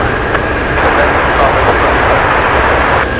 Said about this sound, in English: look at what we have above us. We have a seaplane